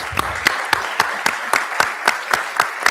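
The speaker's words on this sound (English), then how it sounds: "please give all of our candidates a round of applause" Applause at a U.S. Senate candidate forum in Alabama, with an even, rhythmic beat, steady claps about three or four per second, fairly close and moderately loud.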